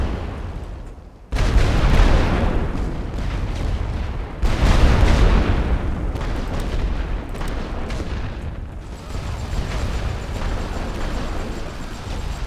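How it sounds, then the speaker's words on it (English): A World War I artillery barrage on the Western Front in a strategy game, with heavy booming explosions rolling one after another in a loud, continuous, rumbling onslaught. "Ready, full barrage. Fire all guns."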